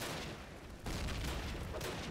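Gunfire and booming explosions from the World War II shooter Call of Duty: United Offensive, a rumbling barrage with a heavier burst midway, fairly faint and with no talking.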